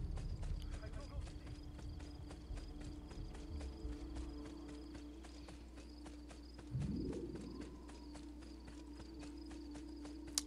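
Horse hooves clip-clopping in the Assassin's Creed II video game, a steady rapid train of hoof beats running the whole time under game ambience, with a louder swell midway.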